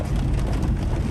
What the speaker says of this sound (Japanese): すごい雨ですね。